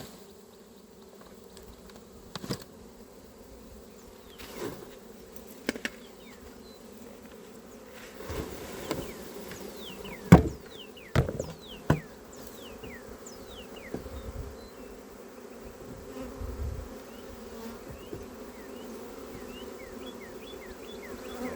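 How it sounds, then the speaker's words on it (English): Honey bees buzz around an open hive as a colony is shaken down and transferred, a steady swarm drone close by with individual bees zipping past and occasional knocks and bumps. "We're gonna give them a good bump on the ground, shake all the bees down"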